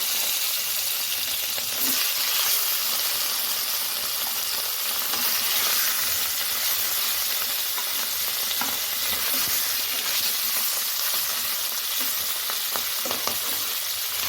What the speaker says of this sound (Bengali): তেল কড়াই সব গরম হয়ে গেছে আমি এখন দিয়ে দেবো মাছগুলো